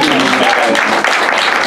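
Applause fills a Sunday church service, a dense, steady wash of clapping close by, with worshippers' voices calling out over it.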